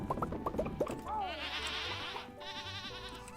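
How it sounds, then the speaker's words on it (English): Goats in the Stardew Valley farming game give a few short, sharp bleats in quick succession, followed by a sustained buzzing game tone; no talk over it. "Those goats sounded angry."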